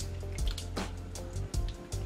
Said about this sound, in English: I'm gonna add in the salsa that I got from Trader Joe's. So just pour it on top.